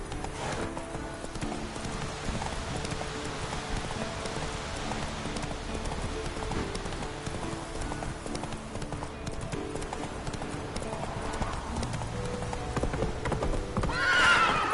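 Roach the horse's hooves clip-clop steadily at a gallop in The Witcher 3 on PS4 Pro, with an occasional whinny, a dense continuous bed of sound close up and fairly loud throughout.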